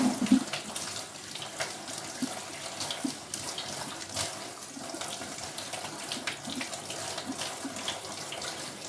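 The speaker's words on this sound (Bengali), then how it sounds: "ভালো করে ধুয়ে নেব একটা একটা করে।" Pumpkin or gourd leaves are washed one by one under a running tap at night, water streaming steadily into a sink with splashes and rubbing sounds close by.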